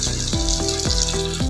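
Egg-dipped beef resha kabab patty sizzling in hot oil over a medium flame, a steady, close frying hiss and bubbling with no talk over it.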